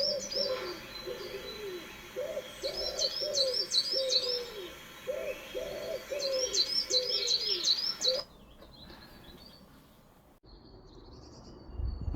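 Recorded garden songbird call played back: repeated phrases of clear whistled notes with higher chirping trills, in bursts over several seconds before cutting off to near silence.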